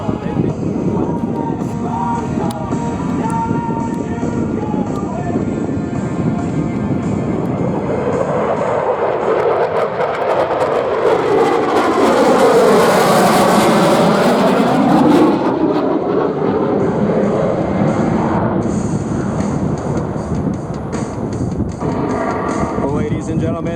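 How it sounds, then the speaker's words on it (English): An F18 fighter jet flies low at the Sun N Fun air show, its engine roar swelling to a loud, sweeping pass that peaks midway and then fades. A public-address announcer talks over it. "the F18 you see here today is one of many used to train pilots"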